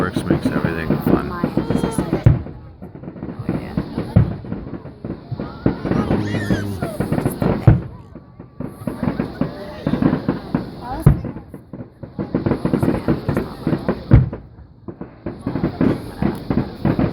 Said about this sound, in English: Fireworks makes everything fun.